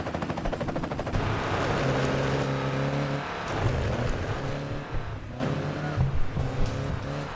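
Racing game car engines from a PSP buzz and rev in quick bursts, with gear-change dips and rattling mechanical effects, loud and continuous.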